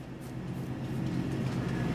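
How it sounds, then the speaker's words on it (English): A train rumbles past in the video game Farming Simulator 22 as a continuous low, heavy roar that swells slightly, close and steady for the whole moment, with no talk over it. "And they got run over by a train."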